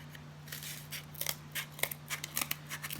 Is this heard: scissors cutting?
yes